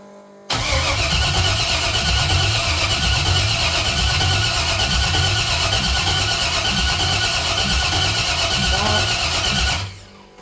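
A 1968 Cadillac hearse with an LS engine swap cranks steadily for about nine seconds, a loud, rhythmic churning starter pulse that never catches, with squealing overtones, then cuts off abruptly.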